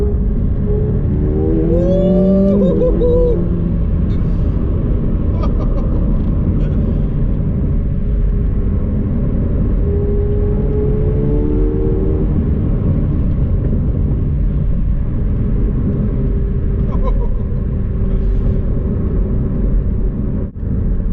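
A 2019 McLaren 720S accelerating in third gear, its engine a loud, steady rumbling drone from inside the cabin that holds throughout, with faint tonal whine rising now and then.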